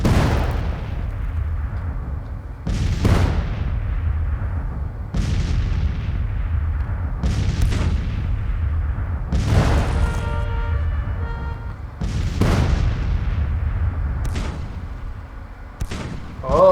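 Artillery fire in the Grand Tactician: Civil War game booms out in repeated heavy blasts, roughly every two to three seconds, over a continuous low battlefield rumble.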